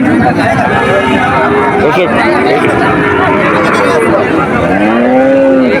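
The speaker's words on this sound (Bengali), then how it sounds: "একটা গাই গরু দেখা যাচ্ছে দেখি এটার দাম কেমন" Cows at a busy cattle market moo in long, drawn-out calls, several overlapping near and far, over constant crowd chatter and babble.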